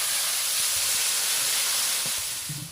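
Water is poured into a hot pan of fried ginger and cumin paste to make gravy for a fish curry, setting off a loud, steady steamy sizzle that fades slightly at the end.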